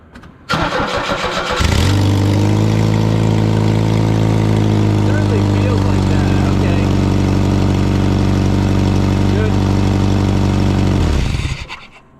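A Chevrolet S10 truck engine cranks briefly, catches and settles into a steady, loud, close idle that runs for about ten seconds before cutting off.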